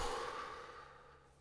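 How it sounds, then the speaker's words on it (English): A slow exhale, a soft airy breath out that starts fuller and fades away over about a second, quiet and close with no talking. "And then you breathe out"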